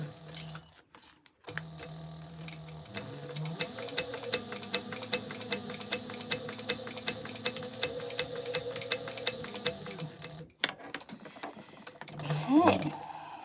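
A longarm sewing machine stitching a hydro pouch at a slowed speed, giving a steady mechanical hum with rapid ticking needle strokes that runs for about nine seconds before stopping, close and moderately loud with faint handling noise.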